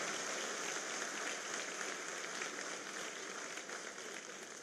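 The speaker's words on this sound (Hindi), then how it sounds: "आप लोग भी जरा जोरदार ताली बजाकर भाई साहब का स्वागत करें।" Audience applause welcoming a guest at a seminar in Bhopal, a steady dense clapping from a large crowd that fills the whole stretch and fades slightly at the end.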